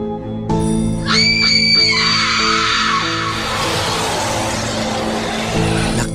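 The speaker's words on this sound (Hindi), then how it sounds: "बाबा लंगोटी लाल का नाम सुन के सारे ज़ॉम्बी जोर जोर से चिल्लाने लगते हैं" Loud, shrill animated zombie screams from a cartoon horror story, several voices rising together over a sustained musical drone, then dissolving into a roaring, noisy wash that fills the rest of the moment.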